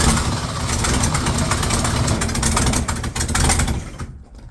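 Engine of a 1965 Ford Mustang under restoration, idling with a loud, steady rumble close by for several seconds before it cuts off abruptly near the end.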